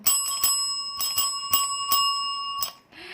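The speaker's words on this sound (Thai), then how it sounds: "โอ้ยกระดิ่งน้อง" A small bell rings repeatedly in quick bright strikes, clear and close, with an irregular rhythm before stopping.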